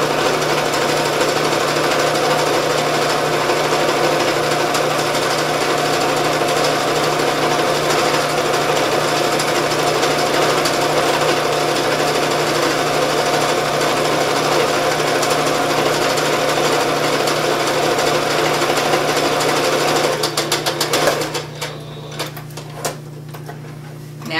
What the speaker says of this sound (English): So I flipped it over and I'm sewing it.